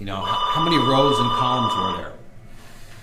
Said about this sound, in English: Apologize for the phone ringing there.